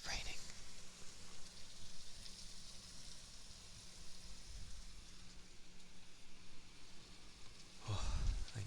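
Rain pours down steadily outside a window, a soft continuous hiss at moderate level, with a heavier rumbling thump near the end.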